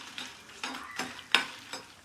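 Dry red chillies fry in a pan, giving a faint crackling sizzle with a few soft scraping stirs spaced through the brief moment.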